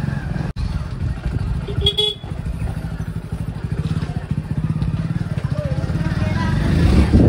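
Car driven slowly through narrow residential lanes at night, steady engine rumble growing louder toward the end with a short horn toot early on, close by, with voices faintly underneath.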